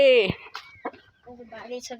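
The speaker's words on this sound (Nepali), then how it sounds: "यहाँ कुखुरा छ। ए भाले" A rooster and hens in a home yard give a sharp, close cluck at the start, followed by softer fowl sounds mixed in with people talking.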